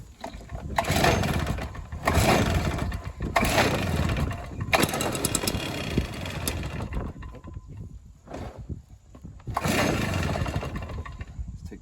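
Stihl BR400 backpack leaf blower engine, choked, pulled over and fired up; several loud bursts of two-stroke running separated by brief drops, settling into a steady near roar with a final surge of throttle.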